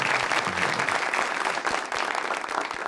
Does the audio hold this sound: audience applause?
yes